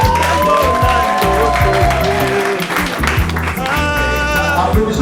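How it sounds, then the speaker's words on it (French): Wedding guests applaud the newly married couple at an official civil ceremony, a dense, steady wash of clapping filling the room with music playing underneath throughout. "Applaudissez l'Alliance"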